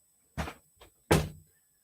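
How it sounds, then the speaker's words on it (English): Room door being pushed shut indoors: two dull thuds a moment apart with a small knock between them, close and fairly soft, no voices. "Just shut the door."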